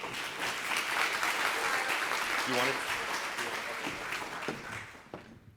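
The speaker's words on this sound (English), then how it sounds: "Please, a round of applause for Linda." A conference audience at a creativity and culture panel claps to welcome the moderator, full sustained applause with a brief voice in the middle, tapering off at the end.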